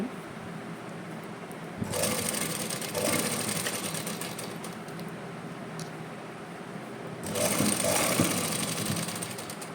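A sewing machine stitching fabric while lace is folded around a round edge, running in two bursts of buzzing mechanical whir separated by a quieter pause.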